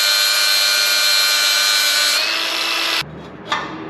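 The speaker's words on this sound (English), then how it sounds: "I'm gonna grind off just a little bit right there of that corner" A grinder grinds down the corner of a welded gusset on a mini truck, a loud, high, steady whine that holds for about three seconds, then cuts off abruptly and leaves a faint rattle.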